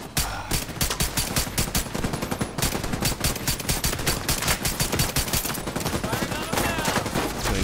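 Rapid, sustained automatic gunfire from The Division 2 rattles nonstop in dense bursts for the whole stretch, loud and close with hardly a gap between shots.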